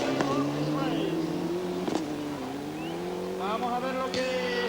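Ford rally cars compete at the 1996 Race of Champions. Engines rev loudly and shift pitch as the cars accelerate, with sharp bursts of noise, under continuous commentary from a man.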